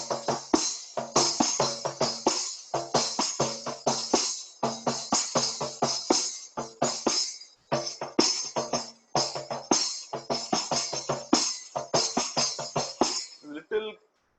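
A kanjira frame drum played fast in a Sai bhajan rhythm, with rapid, crisp, ringing strikes in a steady repeating pattern, close and clear with no other sounds.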